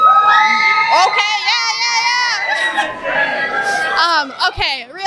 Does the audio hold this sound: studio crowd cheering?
yes